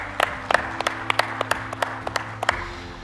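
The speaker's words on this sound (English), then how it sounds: "Give them a big round of applause, everyone." Sparse, sharp claps from a few people in a conference audience ring out one by one over a low background hum, a thin and uneven round of applause with no speech.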